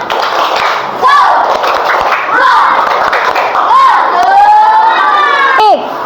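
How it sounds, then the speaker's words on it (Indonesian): Classroom of fourth-grade schoolchildren performing a rhythmic spirit clap, loud and close, with patterned claps mixed with children's chanting voices and shouts. "Ayo, tepuk semangat."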